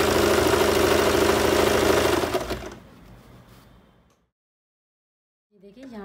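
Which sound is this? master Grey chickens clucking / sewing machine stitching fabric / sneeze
sewing machine stitching fabric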